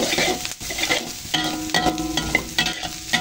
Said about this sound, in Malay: Kita tumis hingga garing